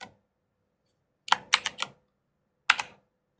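Typing on a computer keyboard, heard as a quick burst of several close keystrokes followed by a pause and then a couple more clicks, crisp and near in a quiet room.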